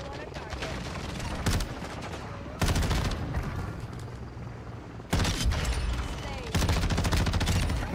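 Rapid automatic fire from the Tempus Razorback in Modern Warfare 2, in several loud close bursts separated by short quieter gaps, with game noise in between.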